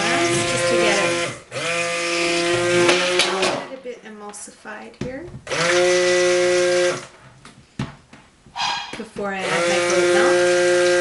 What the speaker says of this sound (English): I'm going to give this a little blast with the stick blender.